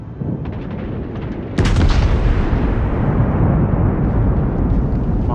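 USS Wyoming battleship guns in World of Warships fire a heavy booming salvo that rolls into a long, loud rumbling roar, with a few lighter thumps just before it.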